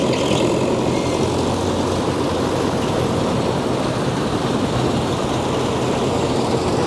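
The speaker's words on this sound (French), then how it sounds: "Il va déjà commencer par mettre les organes de battage en route." Claas combine harvester in a field with its threshing mechanism starting up, a loud, steady, broadband mechanical roar and whir close by, alone and unbroken.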